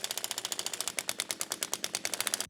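A ratchet or impact tool clicks rapidly and evenly as button head screws are tightened on a Jeep portal axle, a steady, close mechanical chatter with no talking.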